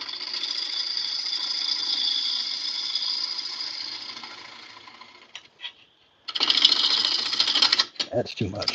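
A wood lathe spins a bowl blank while a 1/2 inch bowl gouge cuts, giving a steady scraping hiss that fades, pauses, then returns in a louder burst, with brief talk near the end.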